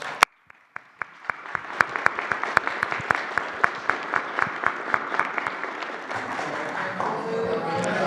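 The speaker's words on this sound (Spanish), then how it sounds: "Un aplauso." Applause from the audience at a presidential press conference, starting with a few sharp separate claps that quickly build into a dense, steady round of clapping lasting several seconds.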